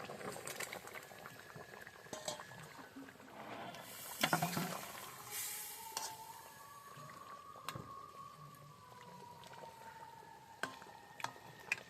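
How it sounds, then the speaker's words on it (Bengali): Fish curry gravy made with rita fish boils in a pot, giving soft continuous bubbling and popping with occasional clinks and stirring noises, quiet and close, with no voices. "ঝোলটা ফুটে হয়ে এসছে, আমি এখন মাছগুলো ছেড়ে দেবো"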